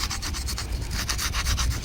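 A stiff brush scrubs back and forth over the finned metal engine of a 1979 Honda CD175 motorcycle in steady, rhythmic strokes, close up and continuous.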